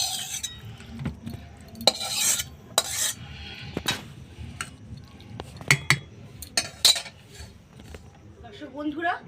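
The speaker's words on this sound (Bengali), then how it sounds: "এবার আমি বাঁধাকপির দমটা এই পাত্রটার মধ্যে ঢেলে নিচ্ছি।" Bengali cabbage dom being ladled from a cooking pot into a serving bowl: a spoon clinks and scrapes against metal in irregular, sharp knocks, close and fairly loud, with no talk.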